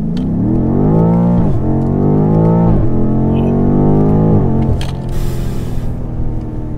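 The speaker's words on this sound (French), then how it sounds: "Départ arrêté." BMW M car launching hard from a standing start, loud close engine climbing steeply in pitch through three quick gear changes before settling into a lower drone.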